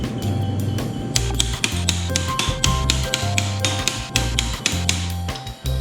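Epoxy bond samples are broken in a strength test, producing a rapid series of sharp cracks and snaps, close and loud, repeating irregularly throughout with no talk.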